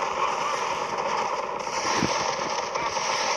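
Dense, crackling gunfire from the zombie shooter Zombie Defense, a continuous rattle of rapid shots with a thud near the middle, loud and steady with no talking.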